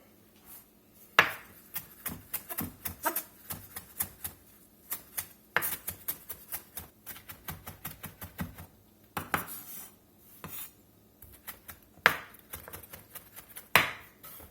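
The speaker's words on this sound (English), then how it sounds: "Get us some more cilantro cut up" A knife chops cilantro on a cutting board for pico de gallo in a street-style carne asada taco kitchen, giving quick irregular bursts of close, crisp board taps broken by short pauses.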